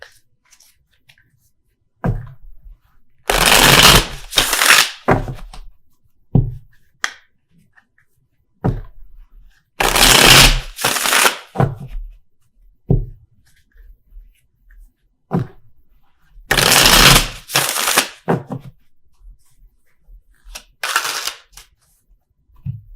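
Tarot cards are shuffled in three loud riffling bursts spaced several seconds apart, with soft taps and card handling in the quiet gaps between.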